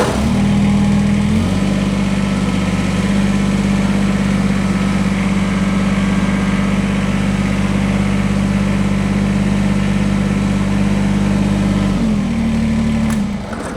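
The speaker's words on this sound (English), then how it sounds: "what I'm actually going to do is I'm going to fire the tractor up" A Kubota BX23S compact tractor's engine runs steadily and loudly for the whole stretch, a deep continuous drone that shifts pitch slightly near the start and again near the end, with no voices over it.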